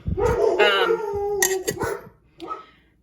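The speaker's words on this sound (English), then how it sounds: "The dogs were having a fit." Dogs at home howling and barking in a loud, close burst of overlapping yelps and drawn-out wails, fading after a few seconds.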